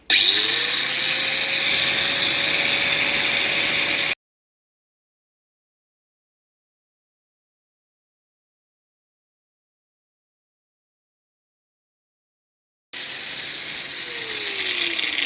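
A Makita 9558HNG angle grinder cutting a piece of iron makes a loud, high, steady whine that winds down. After a long silence the motor whirrs again and its pitch drops.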